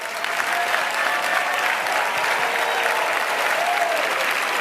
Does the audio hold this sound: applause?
yes